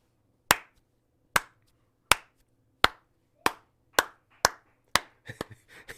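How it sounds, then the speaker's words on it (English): Eight sharp, evenly spaced hand claps ring out in a quiet room, loud and close, followed by a softer flurry of scattered claps at the end. "because I'm clapping"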